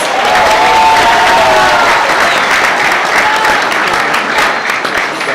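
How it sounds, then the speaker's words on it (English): An audience at a spring martial arts black belt graduation applauds the graduates with loud, sustained clapping. The dense applause carries steadily, with crowd cheering mixed in. "So please give them a big round of applause."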